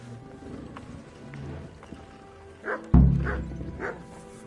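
Dogs in the medieval video game Kingdom Come: Deliverance bark in a short burst of three or four loud, close woofs after a stretch of low ambient game sound.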